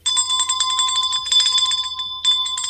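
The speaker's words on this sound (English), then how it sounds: "please ringy-ding that bell" A rapid, ringing bell sound effect at close range, with bright metallic trills repeating for nearly three seconds and a brief break near the middle.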